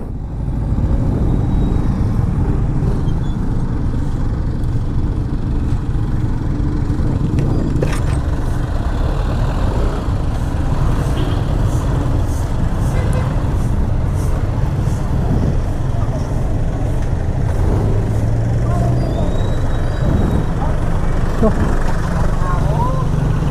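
Dense street traffic on a rain-soaked road between Balibago and Mabalacat in Pampanga, cars and buses rumbling steadily close by with engine drone, a few passing swells and faint horns throughout.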